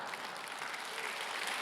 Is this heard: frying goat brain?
no